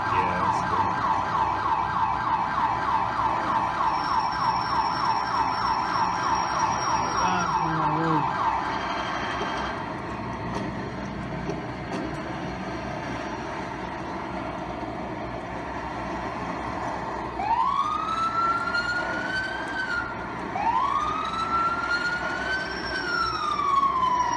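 Emergency vehicle sirens in a New York City emergency-services video game wail steadily, then rising and falling siren sweeps come through near the end, moderately loud over a low rumbling background.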